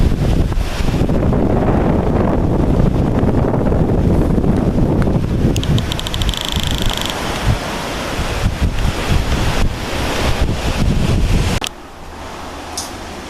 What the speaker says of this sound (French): je t'invite à filmer derrière toi la rivière qui s'écoule